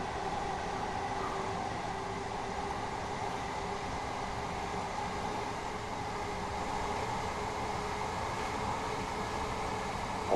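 Freight train in the Train Sim World 6 game runs at a big train yard with a steady, continuous rumble and broadband hiss, even and unbroken, with no voices.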